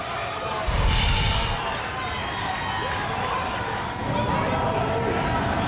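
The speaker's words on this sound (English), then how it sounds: "This place is erupting. The crowd in here is just on its feet." A UFC arena crowd roars and cheers in a loud, sustained wash of noise, swelling in bursts with a commentator talking over it.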